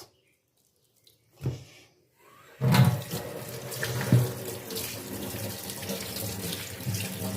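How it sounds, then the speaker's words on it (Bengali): Scaly fish are rinsed under a running kitchen tap: after a near-silent start and a brief knock, a steady close stream of water splashes with handling noises. "চলো এটা ধুয়ে নিই, প্রচুর আঁশ।"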